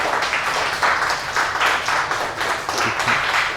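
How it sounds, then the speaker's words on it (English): Applause from a school audience of students after a talk by an autistic speaker at a secondary school, steady dense clapping filling the room, fairly loud and close throughout, with no voices over it. "Applause, please."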